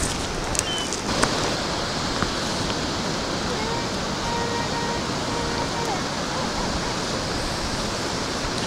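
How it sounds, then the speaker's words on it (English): Large ocean waves break on a beach during heavy rain, making a constant wash of close, broad surf noise with no clear gaps between breakers. "Look at the size of those damn waves, man."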